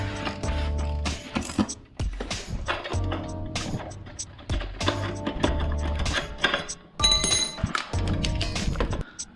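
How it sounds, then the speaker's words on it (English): Metallic clanks, ratcheting clicks and clinks ring out close by in irregular bursts as the rear wheel comes off a Rascal GT mini bike. "So now I'll pull this wheel off of here."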